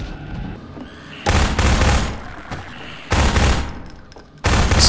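Bursts of loud gunfire in Half-Life 2's Ravenholm as headcrabs are shot, three heavy volleys separated by short gaps, close and dominant.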